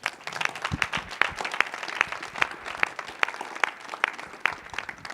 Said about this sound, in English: Come on, let's make a bigger round of applause.